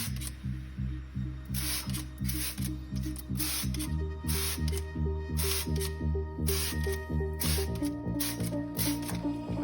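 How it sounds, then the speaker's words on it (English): Purple Blaster degreaser sprayed onto a greasy kitchen hood grill makes a steady rhythm of short, hissing trigger bursts, one after another, over a tonal musical background. "we're going to clean it with degreaser like we already sprayed this one"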